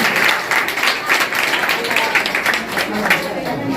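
Audience applause at a Genius Search GK quiz competition prize-giving in a hall, many hands clapping loudly and steadily throughout, with voices mixed into the crowd noise.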